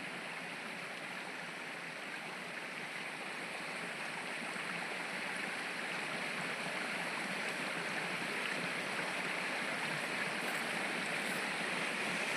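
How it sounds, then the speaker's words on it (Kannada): Water cascades in a continuous, even roar, like a stream tumbling over rocks near Bairapura village by Gajendragada, steady and unbroken for the whole stretch with no voices. "ಇಲ್ಲಿ ದುಮ್ಮಿಕ್ಕೆ ಹರಿಯುತ್ತಿರುವಂತ ನೀರು"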